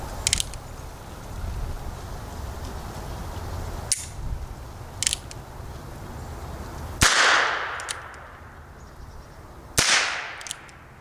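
A Heritage Rough Rider .22lr revolver loaded with light handloads cracks off several sharp shots, with a couple of small snaps early on and two louder reports whose echoes ring out, no talking.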